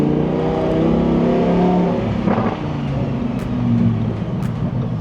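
A Lamborghini fitted with an F1-style exhaust revs and accelerates on a test drive, a steady loud engine roar that swells and eases over several seconds.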